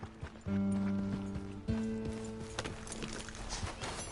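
Horse hooves clip-clopping in Red Dead Redemption 2, a steady trot close by, with sustained musical tones running underneath the hoofbeats.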